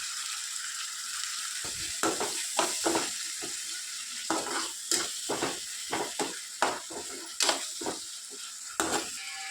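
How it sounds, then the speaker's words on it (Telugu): Ginger garlic paste and fenugreek leaves frying in a kadai, a close steady sizzle broken by a rapid run of sharp spatula scrapes and taps against the pan. "అల్లం వెల్లుల్లి పేస్ట్ని అలాగే మెంతం కూరను రెండింటిని పచ్చి స్మెల్ పోయేంత వరకు బాగా ఫ్రై చేసుకోవాలి"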